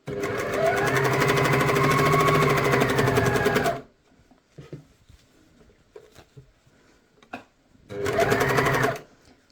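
An overlock serger stitches the fabric of a shirt in a fast, loud mechanical whir, running for a few seconds and then stopping. Quiet handling noises follow before a second shorter burst of stitching.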